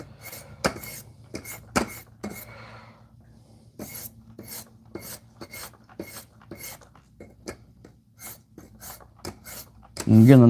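A knife blade is drawn dry across diamond sharpening stones in short, separate rasping strokes, each a crisp scrape separated by brief pauses, with a faint low hum underneath and a louder thump at the very end.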